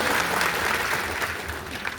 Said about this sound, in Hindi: जिन्होंने बोला उनके लिए ताली बजाओ भाई जोरदार